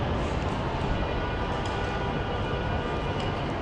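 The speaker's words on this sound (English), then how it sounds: "here are the trains" Steady broadband rumble of trains in a large British railway station under a vast roof, a dense continuous roar with faint metallic clanks, no voices.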